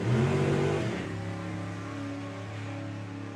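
A drag racing car on the strip at the STP Summer Nationals lifts off the throttle, its loud engine roar fading into a steady, distant drone as it runs on down the track.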